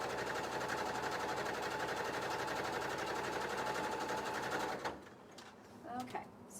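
A sewing machine stitches along the top edge of a petticoat in a fast, even mechanical chatter for about five seconds, then stops, leaving faint clicks and a short voice.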